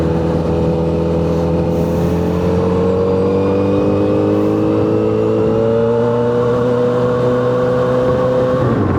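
A car on a road in a typhoon-hit area heading to a cave, its engine droning loudly and steadily nearby with rising tonal harmonics, then cutting off abruptly at the end.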